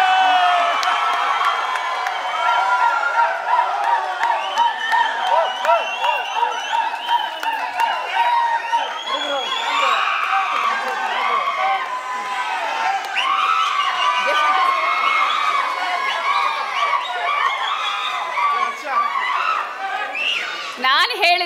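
A crowd at the senior-category finals of a Jain bhajan singing competition claps, cheers and shouts continuously, with whoops and loud voices layered over one another throughout.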